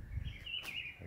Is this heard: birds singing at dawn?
yes